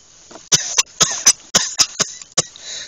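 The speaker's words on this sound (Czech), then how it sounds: "To se úplně dusí" A string of about eight sharp, harsh coughs, close and loud, with choking sounds between them. A thin high whine runs steadily underneath.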